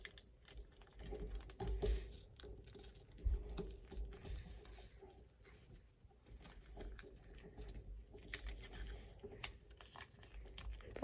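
Paper being creased and folded by hand for an origami fighter jet, a soft scatter of rustles and crisp crinkles with a few sharper taps, close and fairly quiet, with no talking.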